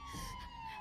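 A police siren sounds from outside, a steady wailing tone heard faintly at a distance and alone.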